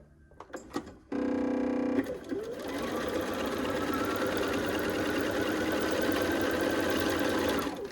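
A sewing machine stitches quilt fabric, starting with a few clicks and a short whirring burst before settling into a steady, close mechanical hum.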